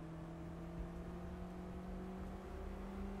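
A Lotus Cortina race car engine in the racing game GT Legends drones steadily at high revs, its tone rising gradually throughout a short continuous stretch.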